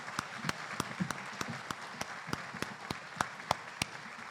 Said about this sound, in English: How about a round of applause for our partners?